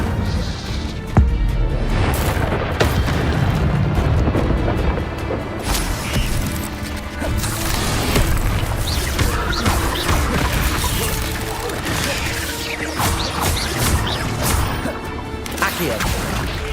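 Incendio fire spell cast in Hogwarts Legacy, loud fiery blasts and crashing whooshes layered over dense game sound and music, with voices heard in the mix.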